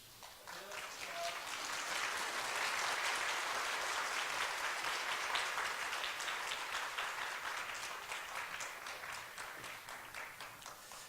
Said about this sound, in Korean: 인사하실 때 큰 박수 해주시면 감사하겠습니다.